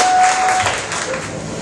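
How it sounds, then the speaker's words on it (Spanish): Audience at a Spanglish comedy show bursts into applause, a dense wash of clapping that stays loud and steady, then eases slightly toward the end. "Un aplauso para mis latinos"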